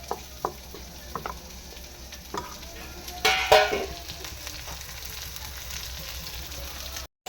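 Chopped onions, green chillies and curry leaves fry in a pan, a moderate sizzle with a burst of louder crackling as they drop in and stirring scrapes before and after, no talking.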